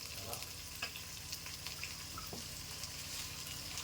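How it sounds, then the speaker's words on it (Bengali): Cooked rice with green peas being stir-fried in a pan over a medium wood fire, a steady close sizzle with scattered scraping and stirring clicks throughout, no talking. "এটাকে হালকা করে ভেজে নিয়ে তার মধ্যে মটরশুঁটিগুলো দিয়ে"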